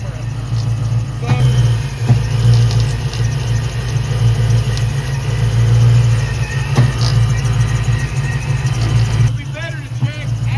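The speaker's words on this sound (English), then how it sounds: "when it's running with a surging idle" A car engine idles nearby with a steady low hum that rises and falls in a surging idle, with occasional faint clicks and a voice speaking over it.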